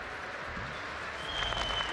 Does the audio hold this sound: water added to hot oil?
no